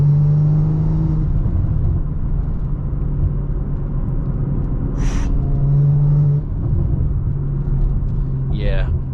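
BMW M340i with a catless downpipe, a deep steady exhaust rumble heard from inside the cabin, with a couple of brief sharp pops and a voice talking over the drone.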